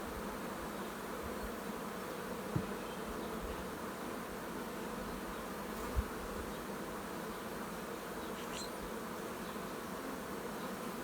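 Honey bees in a queenless starter colony set up for raising queen cells hum in a steady, dense drone throughout, with two brief clicks along the way.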